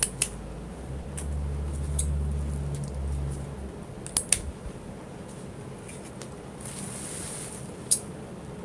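Scissors snip through wreath ribbon tails at a slant, a few sharp isolated cuts over a low background hum, with soft rustling of material between them.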